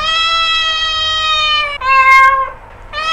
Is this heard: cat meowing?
yes